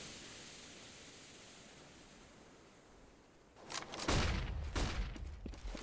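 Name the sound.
gunfire in the video game Counter-Strike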